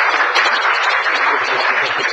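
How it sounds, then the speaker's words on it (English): Steady, dense applause from a crowd at a city commission and planning board workshop, a continuous wash of clapping at a loud level with no distinct individual claps standing out. "Round of applause."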